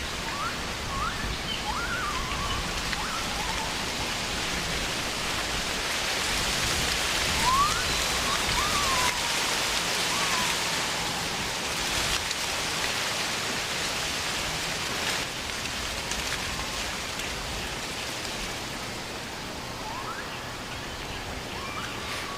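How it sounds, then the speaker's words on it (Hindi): Heavy rain in a storm, a steady loud wash of drops hitting surfaces with gusting rustle, continuous and even from start to finish with no voices. "कि तभी भयंकर आंधी और बारिश शुरू हो गई।"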